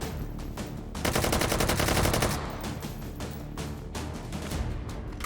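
A gun in the H3VR virtual reality shooter emptied in a fast, continuous string of loud, close shots, then a few spaced single shots, no talking.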